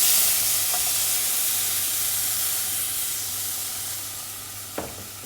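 Milk being added gradually and stirred into a hot lasagne sauce base in a pan, heard as a steady broadband sizzling hiss that slowly fades, with a single faint utensil clink near the end.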